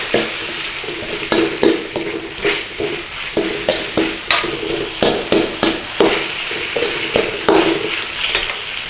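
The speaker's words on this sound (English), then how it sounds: "In with a little bit of cornstarch slurry." Beef, green pepper and black bean sauce being stir-fried with cornstarch slurry in a hot wok, a steady loud sizzle broken by rhythmic scraping strokes of the spatula, close and continuous with no talking.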